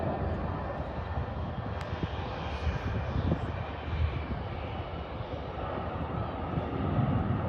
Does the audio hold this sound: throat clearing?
no